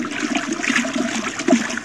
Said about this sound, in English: and you want to get the water whirling.